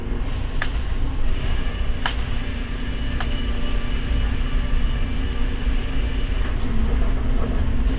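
At a sawmill, a circle saw on a carriage runs through a southern pine log with a loud, steady mechanical roar and low hum, marked by a few sharp clanks.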